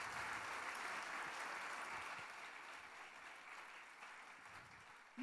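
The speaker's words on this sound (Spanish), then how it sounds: "Ahora sí, dele el aplauso a Dios." A church congregation applauding during a sermon, a broad continuous clapping that starts strong and gradually fades, with no voices on top.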